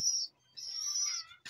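Pigeons in their loft giving two brief, faint calls separated by a short gap, with a soft rustle at the end.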